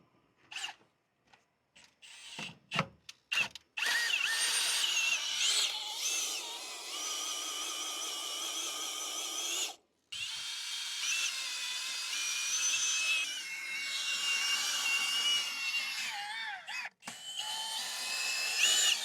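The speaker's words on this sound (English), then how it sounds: "Drill the injector now." Power drill boring out a seized diesel injector on a Vauxhall Vivaro van, a sustained high-pitched whine running steadily for long stretches after a few short bursts, pausing once briefly before resuming at close range.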